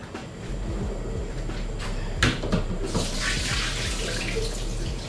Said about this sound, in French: Jeter un peu d'eau.